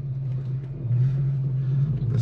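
Infiniti G37 with Stillen Gen 3 intakes idling, a steady low engine rumble holding close and even, with a slight rise in level partway through and no talking.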